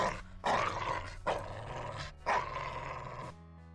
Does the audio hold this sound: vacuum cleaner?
no